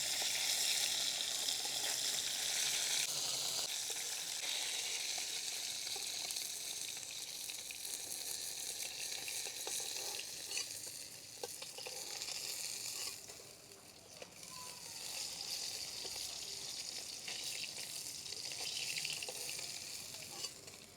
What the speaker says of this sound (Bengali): আর এইদিকে আরও চারটে ভাজা হচ্ছে